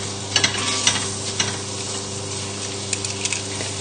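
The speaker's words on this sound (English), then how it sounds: "just move them around the pan with your tongs" Pork pieces dusted in flour brown in oil in a pan, a constant close sizzle broken by clacks and scrapes as tongs shuffle the meat around.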